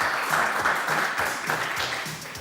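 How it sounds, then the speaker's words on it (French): Studio audience at a televised quiz show applauding the winner, a steady wash of clapping hands from a crowd, moderately loud and continuous without talk. "on peut l'applaudir encore une fois, notre gagnant"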